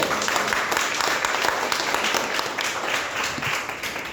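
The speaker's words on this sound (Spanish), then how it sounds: "Dale un fuerte aplauso al Señor, hermano." A church congregation applauding during a Spanish-language service, sustained clapping from many people at moderate level, continuous throughout and easing slightly toward the end.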